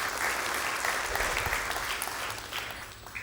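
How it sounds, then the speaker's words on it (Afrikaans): Applause from a church congregation greeting a visiting pastor, steady dense clapping sustained throughout and tapering slightly at the end, with no talk over it. "Gee hom 'n lekker hande klap"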